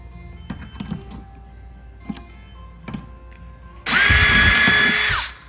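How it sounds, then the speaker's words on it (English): Power drill boring holes into an airbrush tool case, heard as a loud, steady whirring burst of about a second and a half after a few quiet clicks and handling taps. "And then I just drill holes."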